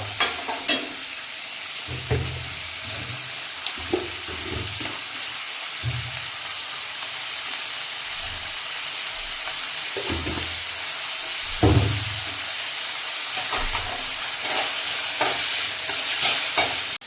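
Chopped onions with a pinch of salt frying and being stirred in a pan for a Thrissur-style raw banana and beef dish, a steady soft sizzle broken by repeated scraping stir strokes, close and alone without talk.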